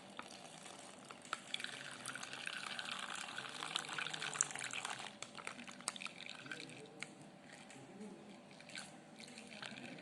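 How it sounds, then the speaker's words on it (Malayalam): Half a litre of milk pours into mango ice-cream powder in a bowl, a faint, steady liquid trickle with a few small drips and clinks, quiet and close with no talk. "ഇനി നമുക്ക് ഇതിനകത്തേക്ക് പാലൊഴിച്ച് കൊടുക്കാം"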